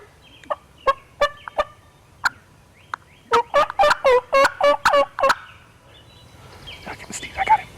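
A hunter's mouth call imitates turkey gobbles outdoors during a hunt, with short scattered yelps, then a fast loud run of gobbling calls, then quieter calling at the end.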